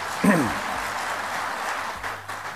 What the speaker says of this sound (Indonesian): Tepuk tangan untuk Wapres kita.